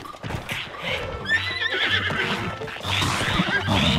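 A horse neighs and whinnies in Zelda: Tears of the Kingdom, its rising calls repeating over a steady clip-clop of hooves, loud and close, with no talk.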